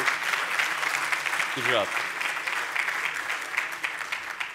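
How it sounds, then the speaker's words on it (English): Conference audience applauding in a continuous, fairly loud round of clapping that lasts throughout, with a voice briefly speaking over it partway through. "I request all of you to please give them a big round of applause"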